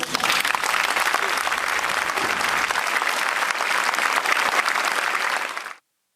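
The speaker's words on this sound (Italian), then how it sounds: "Alla fine applausi e tanti palloncini bianchi lasciati liberi." Steady, dense applause from a gathered crowd at a ceremony in Sicily, loud and continuous for nearly six seconds before cutting off abruptly.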